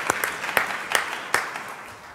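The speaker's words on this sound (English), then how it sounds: "I'd like to, for us to give the students another round of applause." A convocation audience gives students another round of applause, a short spell of clapping with a few sharp, distinct claps standing out, fading toward the end.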